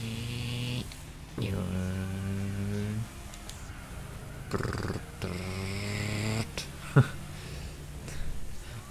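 A voice imitates car engine noises while Gran Turismo 4 plays, droning and rising in pitch like revs and gear shifts in long sustained bursts with short breaks between them, close and fairly loud.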